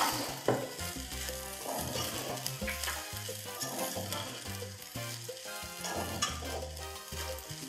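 Chicken cubes stir-fried in a pan for Peruvian arroz chaufa, giving a steady, fairly loud sizzle broken by repeated scraping stirs, with a strong low tonal background running throughout and no voices.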